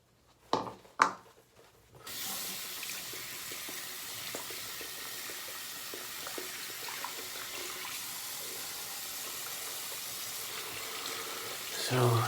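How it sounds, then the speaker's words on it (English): Tap water running steadily onto a shaving brush at a sink, a constant splashing hiss after a couple of brief knocks, ending with a short louder gurgle. "So just adding a little bit of water."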